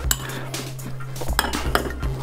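A spoon stirs fruit salad with yogurt in a bowl, giving a few soft clinks and scrapes against the dish over a low steady hum, with no talking.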